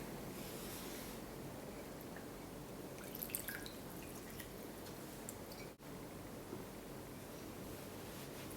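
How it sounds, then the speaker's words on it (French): Running tap water rinses manicure product off a pair of hands, a steady broadband splashing wash that holds continuously throughout with a few brief brighter drips and clinks. "Et je vais rincer le produit."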